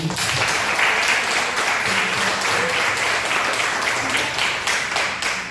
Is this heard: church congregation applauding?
yes